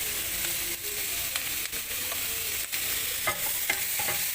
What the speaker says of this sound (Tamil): இப்போ இஞ்சி பூண்டு போடுறோம்.